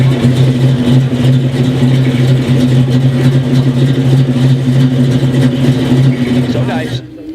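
The engine of a 1966 Ford Fairlane runs at a steady, loud idle with a deep, even rumble that holds throughout, then drops off sharply at the end.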